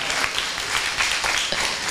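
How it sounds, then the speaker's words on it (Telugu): Dense applause from a church congregation during a sermon, continuous clapping with a few sharper claps standing out. "చప్పట్లు కొట్టి దేవుణ్ణి మహిమపరుద్దాం."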